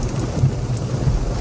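Heavy rain from a cold cyclone pours down around a car during a downpour, a steady dense wash of drops drumming close by, continuous and loud with no speech.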